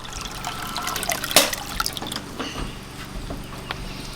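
A backyard pond waterfall trickles and drips as it is switched off, a soft continuous watery patter broken by one brief louder splash, with no one talking.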